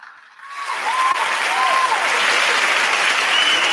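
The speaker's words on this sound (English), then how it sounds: "I believe they deserve another round of applause, please" A conference forum crowd applauds, rising quickly from quiet into steady, dense clapping that holds strong to the end, with a few faint whistles above it.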